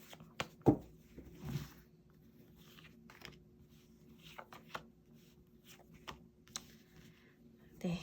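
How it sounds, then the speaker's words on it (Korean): Tarot cards are shuffled and drawn, producing soft scattered clicks, slides and taps of card stock at close range, faint and irregular with a couple of louder knocks. "3번 선택하신 분들 위해서 카드를 섞고 뽑아보겠습니다."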